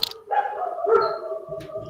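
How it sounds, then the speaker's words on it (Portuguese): A dog barks in the background indoors, a few short muffled barks close together over roughly two seconds, moderately loud and with no speech over them. "Vocês estão ouvindo latidos ao fundo?"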